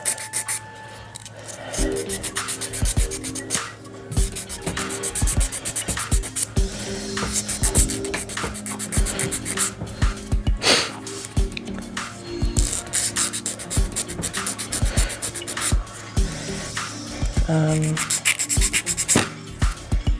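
A nail file rasps rhythmically across fingernails in quick repeated strokes, close and fairly loud, with brief pauses between bursts as the nails are shaped.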